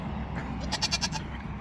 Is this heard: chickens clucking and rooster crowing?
no